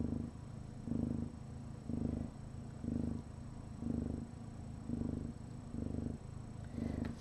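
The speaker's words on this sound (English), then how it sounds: "Listen to that purring." A big cat purrs close up in a steady, deep rumbling rhythm, each loud inhale-exhale cycle repeating about once per second, with no voices over it.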